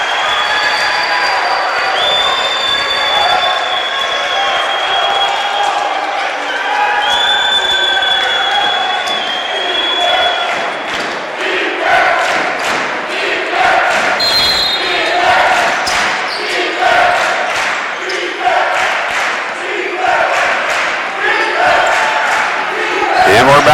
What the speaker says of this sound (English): It's a noisy and raucous crowd.